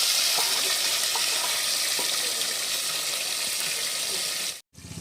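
Katla fish head frying in hot oil under a lid, giving a steady, close hiss of sizzling that runs on evenly for several seconds before cutting off abruptly near the end.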